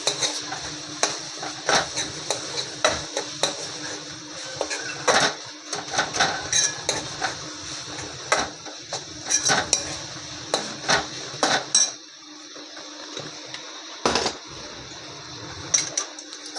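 Masala of onion, tomato, cumin powder and a quarter spoon of turmeric stirred in a pan over low flame for prawn masala, with repeated scraping clinks of a spoon against metal and a faint background hum, no talk.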